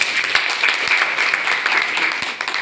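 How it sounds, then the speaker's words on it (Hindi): An audience at a seminar applauds an achiever, dense continuous clapping filling the room for a couple of seconds. "एक बार जोरदार तालियां उनके लिए"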